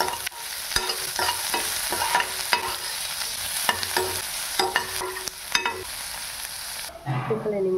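Mustard seeds, chili, onion and garlic frying in a pan for masala dosa: a steady bright sizzle with frequent stirring scrapes and clicks up close, ending with a quiet stretch.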